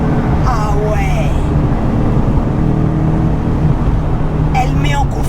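A BMW M3 GTS Clubsport replica, an E92, drives fast with a steady loud engine drone and road roar inside the cabin, while people speak briefly at the start and end.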